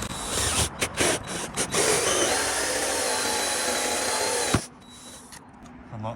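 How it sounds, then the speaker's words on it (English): A power drill bores through a wall along the mortar line to make a hole for CCTV cabling, a loud continuous whine that stops abruptly near the end, leaving quieter room noise. "Use the drill to sort of align it with the mortar line, and then we're just going to blast it through"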